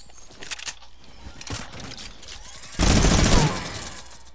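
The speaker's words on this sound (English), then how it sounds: "What if some machine gun sounds like that minigun?" Minigun firing in a video game, a loud dense burst of rapid fire lasting about a second, preceded by quieter scattered game sounds and clatter.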